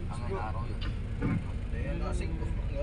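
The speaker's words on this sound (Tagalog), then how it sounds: "Grabe ang traffic, oh." Congested SCTEX expressway traffic gives a constant low engine rumble with a vehicle swelling past midway, heard under nearby conversation.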